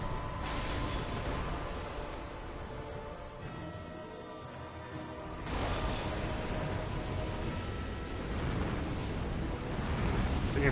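Repeated heavy booming explosions in Dark Souls, dense rumbling bursts, loud and continuous over the whole stretch, with faint voices underneath.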